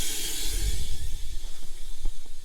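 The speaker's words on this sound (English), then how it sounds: "Run some water from the sink" Water running from a sink tap in an RV, a steady soft hiss with a few faint low knocks and bumps underneath.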